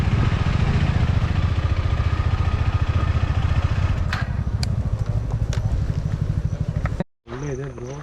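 A motorcycle slipping on wet ground near a dam runs its engine close by in a loud, pulsing rumble that holds for several seconds before cutting out abruptly, followed briefly by a voice.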